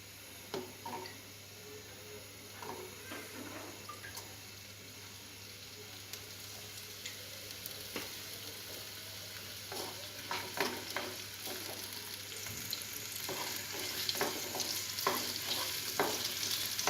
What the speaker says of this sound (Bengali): পেঁয়াজটা একটু হালকা বাদামি করে ভেজে নেব, সাথে রসুন আর আদা ছেঁচাটাও দিয়ে দিয়েছি।